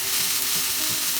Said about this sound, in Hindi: अभी और 3 से 4 मिनट फ्राई करना है।